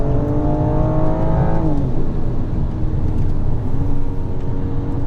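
A BMW M4 race car driven by Colin Turkington sweeps past on the outside at a racetrack, its engine a loud, sustained drone with pitch shifting as it pulls alongside, heard over the steady roar of the car being driven.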